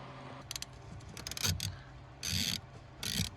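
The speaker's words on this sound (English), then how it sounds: "next you're going to go underneath and remove the screws in the DME" A ratchet wrench clicks in quick bursts while removing the 8mm screws holding the DME on a Porsche 944, close and crisp, with short pauses and faint metallic handling between runs and no talking.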